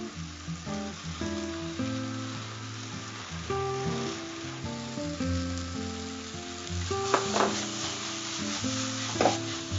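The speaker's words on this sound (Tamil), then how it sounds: "இப்ப பாத்தீங்களா எவ்வளவு சீக்கிரமா வதக்கிட்டோம்" Green chillies and curry leaves sautéing in a pan, a steady close sizzle and crackle with scraping stirs, sharp pops of spitting oil rising near the end, no talk over it.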